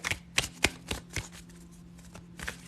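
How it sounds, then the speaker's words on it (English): Tarot cards riffle-shuffled in several quick bursts, each a crisp fluttering burst of paper against a quiet low hum, close up with no talking. "let's get these cards shuffled"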